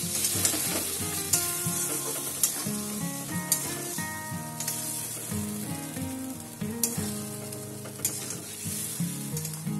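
Spice masala with sour yogurt and potatoes sizzling in a pan over high flame, a steady frying hiss that sits beneath prominent background music, with no voices.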